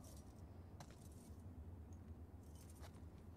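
Keys jangling in The Last of Us Part II, a few soft metallic clinks and rattles over a low steady rumble, fairly faint and close.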